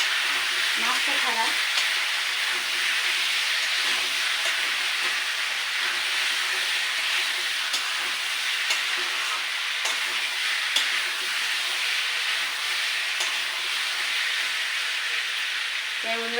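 Pumpkin being sautéed in a pan for a curry, a continuous close sizzle and hiss of frying with occasional scraping strokes of a spatula as it is stirred.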